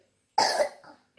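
A child coughs once, a close, harsh burst trailing into a rasp, followed by a faint second cough.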